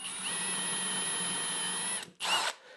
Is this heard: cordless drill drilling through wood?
yes